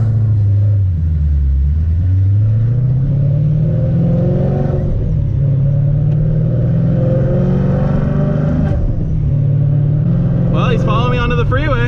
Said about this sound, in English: Let's listen to his car really quick.